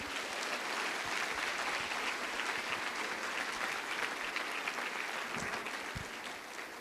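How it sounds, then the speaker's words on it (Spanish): A church congregation applauding, a dense and steady roll of many hands clapping throughout, moderately loud and heard from within the crowd. "Denle un aplauso a Cristo."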